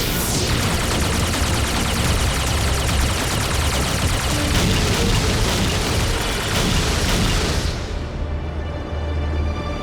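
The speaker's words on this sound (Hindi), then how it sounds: "Laser machine gun, dual flash gun." Laser machine guns fire in a Miniforce animated robot battle: dense, loud, continuous rapid bursts and zaps. The barrage fills most of the span, then drops away near the end into a lingering rumble.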